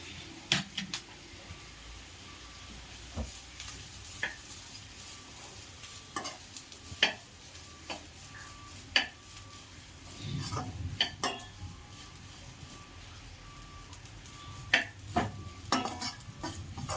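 Grated fresh coconut toasting in ghee in a pan, stirred with a spoon that scrapes and clinks against the metal at irregular intervals over a soft, steady background sizzle.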